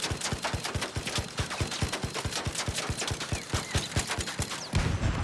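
Rapid automatic gunfire in the video game ARC Raiders, a long, steady burst of evenly spaced shots close up, ending in a heavier blast near the end.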